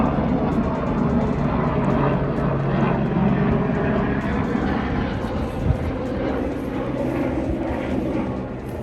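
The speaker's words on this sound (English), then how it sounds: "Let this plane go by." An airplane passing overhead with a steady, broad engine roar that holds loud throughout, fading slightly at the end, heard outdoors beside a parked 2003 Ford Taurus SE wagon.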